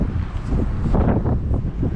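Strong gusty wind buffets the microphone outdoors at a pond, a steady broadband rush with surging gusts across the whole stretch and no voices.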